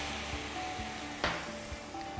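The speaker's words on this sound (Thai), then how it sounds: "หลังจากนั้นผมเติมไวน์แดงไปครับ" Red wine added to onions sizzling in a pan for onion soup, a steady close hiss of frying with one brief louder splash partway through.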